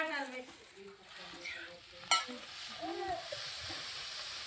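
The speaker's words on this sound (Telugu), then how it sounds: "పంచదార పోసినాకంతా కలుపుకున్నా." A pot of cooked sago payasam with sugar just added being stirred, soft liquid swishing and a low bubbling hiss with one sharp clink of the spoon against the pot, quiet and close.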